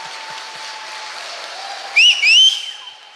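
Church congregation applauding with a steady patter of claps, then two loud, sharp rising whistles cut through near the end before the clapping fades.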